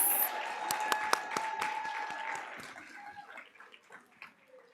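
An awards ceremony audience claps in a scattered round, with sharp individual claps standing out before the applause thins and fades toward the end, fairly quiet overall.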